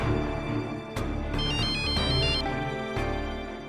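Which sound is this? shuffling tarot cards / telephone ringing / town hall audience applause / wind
telephone ringing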